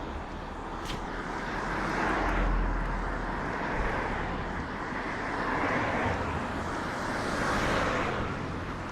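A helicopter passes overhead on a hazy, cloudy day, its steady, loud engine and rotor roar swelling and easing without a break, with some wind across the microphone.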